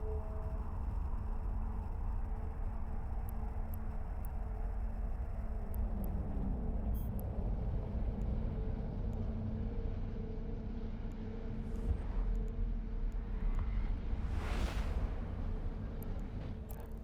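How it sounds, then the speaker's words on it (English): Spaceship warp drive engaging in Eve Online: a steady, dense low rumble with a long swelling whoosh through the middle, continuous and fairly loud throughout, with no voices. "Warp drive active."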